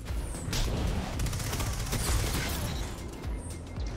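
Rapid-fire pulse rifle shooting in the video game Destiny 2: dense, fast bursts of shots rattle on for several seconds, loud and continuous over a busy game soundscape, with no voices.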